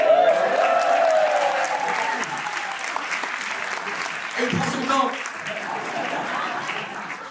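A comedy show crowd applauds in a steady wash of clapping, with someone speaking over it and a brief burst of louder sound partway through.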